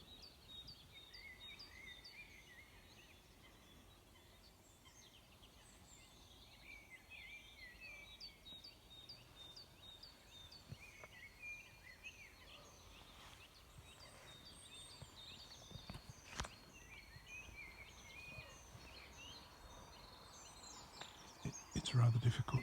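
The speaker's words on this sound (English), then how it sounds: "But now you can listen to the birds." Birds singing at sunrise: faint, distant chirps and tweets scattered through a quiet outdoor ambience, with soft movement noise and a brief low rumble near the end.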